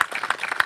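A short burst of audience clapping at a gun violence prevention awareness event, with uneven, scattered claps over a brief stretch.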